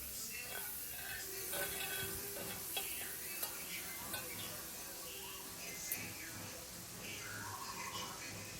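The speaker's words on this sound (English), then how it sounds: "And then we're going to go ahead and put our salmon in our skillet." Salmon frying in melted salted butter in a skillet, a faint steady sizzle with occasional clicks and scrapes of handling close by.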